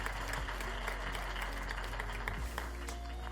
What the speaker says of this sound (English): please clap for yourselves in appreciation of the work that you have done